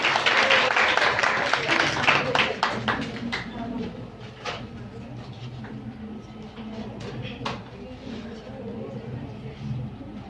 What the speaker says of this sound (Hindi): आपकी भरपूर तालियों में मैडम सईदा आबदा नकवी